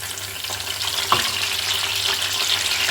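Crushed soft flowers and leaves sizzle steadily in oil over a very low gas flame as homemade hair oil cooks, a continuous close frying hiss with faint crackles and one brief clink near the middle.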